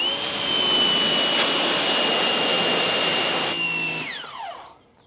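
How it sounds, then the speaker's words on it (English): A Ryobi 2000 PSI electric pressure washer runs nearby with a loud, steady high-pitched whine over a rushing hiss, then winds down with a falling tone near the end and fades out. "here's what we're using in today's experiment. The electric 2000 PSI Ryobi."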